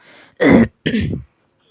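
Two harsh, close cough bursts come from someone with a cold, each about a third of a second long and loud, followed by silence.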